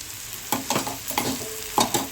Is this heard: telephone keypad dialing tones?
no